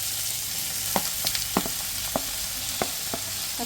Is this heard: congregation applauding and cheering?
no